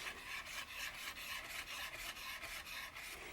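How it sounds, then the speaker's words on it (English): A kitchen knife slices peppers into thin strips on a cutting board, a soft, quiet, regular rasping stroke repeated roughly every quarter second. "you're going to just cut your bits of pepper into thin strips"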